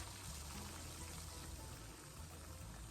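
Hot water pouring into a pot on a stovetop, heard as a steady, close, continuous rushing splash for about three seconds, with no talking.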